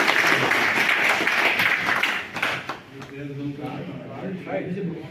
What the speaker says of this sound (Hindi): इनके सम्मान में भी एक बार ताली बजाइए।